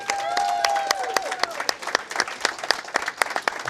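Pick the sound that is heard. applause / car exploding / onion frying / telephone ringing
applause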